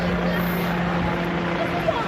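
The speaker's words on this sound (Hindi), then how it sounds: "हेलीकॉप्टर लगातार घूम रही है" A steady, droning helicopter rotor hum fills the background continuously, fairly loud and unchanging, as it circles overhead at the Kumbh Mela 2025, with a faint voice mixed in.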